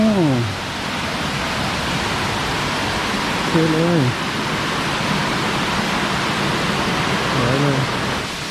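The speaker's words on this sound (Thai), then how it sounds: "น้ำตกชั้นที่สามอะผาน้ำตก เป็นผาน้ำตก" The third tier of Erawan Waterfall in Erawan National Park, Thailand, roars as a steady, loud wash of falling water, with a voice talking briefly over it a few times.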